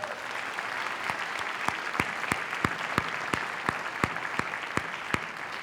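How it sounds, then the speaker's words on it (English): An audience at a school event claps for district staff, a steady crowd applause with sharp individual claps standing out in a fairly regular rhythm, continuous and without voices. "we can give you a round of applause for being here and supporting this event"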